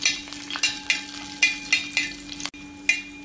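Cashews and raisins frying in ghee as they are stirred, a continuous close sizzle broken by repeated sharp scraping strokes of a spoon against the pan at an uneven rhythm.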